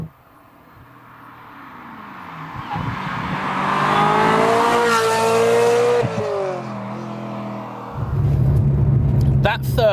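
Ferrari F355 V8 engine revving, climbing from a low idle to a loud, high, rising wail, falling back, then settling into a deep rumble near the end.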